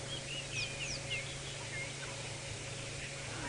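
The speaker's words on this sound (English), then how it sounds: "that is a scimitarbill" A scimitarbill calls at dawn on a safari drive, giving thin, high chirps and whistled notes that sound distant and faint over a low, constant vehicle hum.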